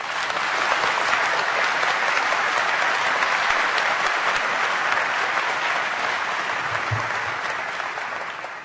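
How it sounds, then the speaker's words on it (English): An audience at a medical school convocation applauds to welcome the evening's speaker, a dense, steady wash of clapping that holds for the whole stretch and thins slightly at the end, with no voices over it. "you're very wise to clap before my speech"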